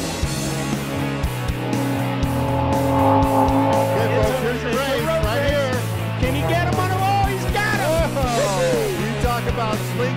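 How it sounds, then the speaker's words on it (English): Unlimited-class racing aircraft engines at the 2016 National Air Races, a loud, continuous roar whose pitch sweeps up and down as the planes pass, heard over music. "Gentlemen, start your engines."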